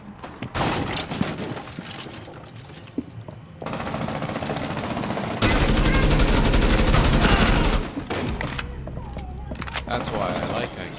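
Rainbow Six Siege gunfire pounds in loud, dense bursts that shift in intensity over several seconds, with a shotgun among the weapons and heavy rumbling between shots.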